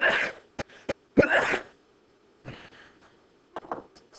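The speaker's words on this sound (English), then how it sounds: "Got a little bit of the sneezing." A person sneezes during a chemistry review lesson, a sharp burst followed by a second, with smaller coughing or throat-clearing sounds scattered around in a quiet room.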